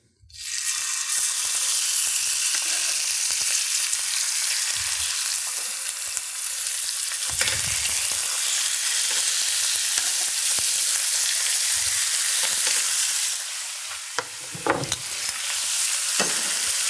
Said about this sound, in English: I'm going to put them in the pan, skin side down, because we want this skin to get really crispy.